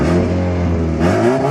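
Brian Hartstock's SR VET AE86 drift car revs hard up close, a loud sustained engine roar that holds steady and swells again near the end, with no voices over it.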